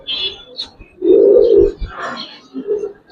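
Giribaz and coloring pigeons coo close by, soft throaty coos and murmurs rising and falling in short bursts, one longer swelling coo in the middle.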